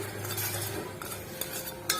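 A spoon scraping and stirring jaggery melting with a little water in a pan, soft repeated metallic scrapes and faint clinks over a low steady background, with a brighter clink near the end and no talking.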